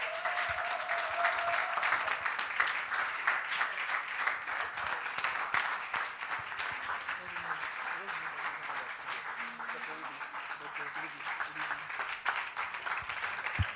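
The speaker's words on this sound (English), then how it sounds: "Can you guys give Mr. Solomon a round of applause?" An audience applauds a speaker at a youth summit on masculinity, sustained dense clapping throughout with a faint voice and some cheering mixed in beneath.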